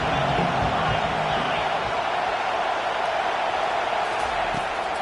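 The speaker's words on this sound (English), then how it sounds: "Decibels rising as the crowd gets behind this defense on third down." A stadium crowd at a college football game roars for the defense on third down, a loud sustained wall of cheering and shouting that holds steady from start to end.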